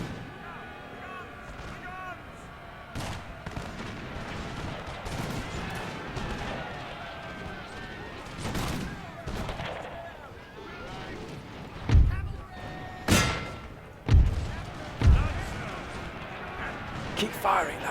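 Musket volleys crack out in a Napoleon: Total War battle with the Zulu mod, scattered shots giving way to several loud, heavy volleys in quick succession late on, with a voice shouting orders over the din.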